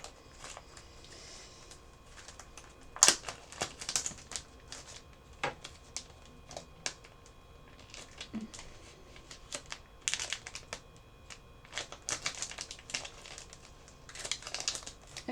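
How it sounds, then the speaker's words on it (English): Plastic packaging being handled and pulled open to free an It's So Emma cross-stitch key, giving close, intermittent crinkles and crackles with sharper snaps every second or two against a quiet room. "I'm going to take it out of the plastic."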